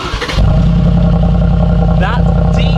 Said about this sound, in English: That deep burble and rumble.